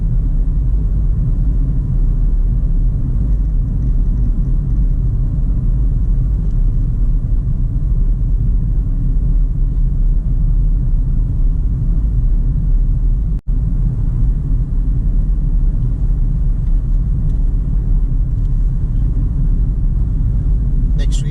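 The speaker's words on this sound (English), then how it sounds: "The road is going downhill, which means the car will start speeding up itself." A car rolls downhill on a road on a driving test route near Kyneton, its steady low engine and road rumble continuous throughout, with a brief dip in the noise partway through.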